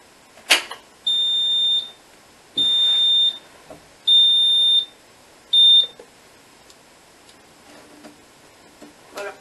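A Neutronic type 2B fire alarm control panel sounds after a test trigger, giving four loud, evenly spaced high-pitched electronic beeps about a second long, with clicks and faint room noise between them.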